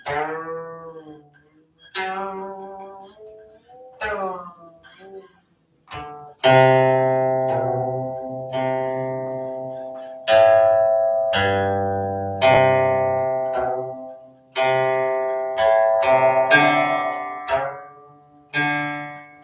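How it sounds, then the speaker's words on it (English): Plucked guqin open-string notes ring out one at a time, resonant and sustained with no sliding, with pauses between them and a few quick clusters; no voices. "So a lot of open string sound, and there's literally no sliding"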